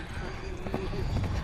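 American quarter horse hooves clip-clopping on dry, slick ground during a Western riding display, a steady beat of hoofbeats under someone talking, with crowd noise in the background.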